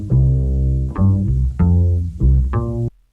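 Bass-only loop from a sample, four deep sustained bass notes with a soft attack, each ringing warmly into the next, loud and alone before cutting off abruptly.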